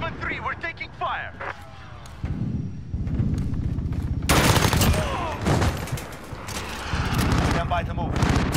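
Rapid automatic gunfire and explosions fill a military shooter video game battle, bursts of shots layered and nearly continuous, loud and close, with a player's voice talking over the combat.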